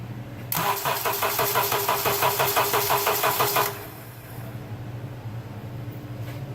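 The starter on a 2005 Honda Accord cranks the engine in a loud, fast, even chugging rhythm for about three seconds, then cuts off, leaving a low hum.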